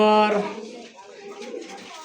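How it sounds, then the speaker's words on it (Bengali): Hyderabad blue racer pigeons give a short, close coo at the very start, and a voice then carries on talking over faint background noise. "এটা হলো হায়দ্রাবাদ নীলি কবুতর হ্যাঁ আচ্ছা আচ্ছা হায়দ্রাবাদ নীলি কবুতর এটা হলো রেসার"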